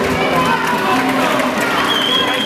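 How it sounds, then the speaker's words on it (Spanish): A loud crowd at a rowing regatta claps and cheers for a passing crew, a dense, continuous roar of voices and hands close by, with an announcer's voice mixed in. "Fuerte aplauso para los gallegos"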